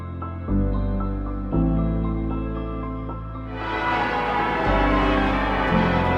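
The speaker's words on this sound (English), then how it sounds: "Church bells for Mum's birthday." Large church bells at Port Arthur, Tasmania ring out in repeated, resonant strikes, each tone lingering and overlapping the next, with a brighter clangor joining partway through.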